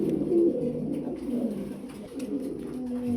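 Pigeons coo steadily and fairly close at a pigeon farm holding German shield, velvet shield and Iranian breeds, with overlapping low cooing throughout and no talk.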